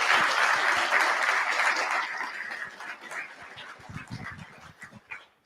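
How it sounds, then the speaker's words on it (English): A debate audience applauds the event's security staff. Loud, dense clapping for about two seconds, then it thins out into scattered, fading claps and a few stray noises. "Can we get a round of applause for them for doing such a fantastic job?"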